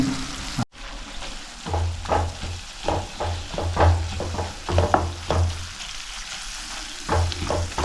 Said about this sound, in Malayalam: ചുമന്നുള്ളിയും ബ്രൗൺ കളർ ആവുന്ന വരെ നല്ല രീതിയിൽ ഒന്ന് ഇളക്കി കൊടുക്കുക